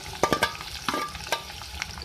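Onion sizzles softly in a pan while a spoon stirs it, giving a faint crackle with several sharp scraping strokes spaced through the clip.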